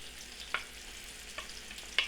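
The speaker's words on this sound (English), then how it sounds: "We're gonna put all of our onions in." Onions sizzle quietly in a pan with browned pork for a Latvian stew, giving a soft, steady frying hiss with three brief louder spits or stirring clicks, close but fairly faint.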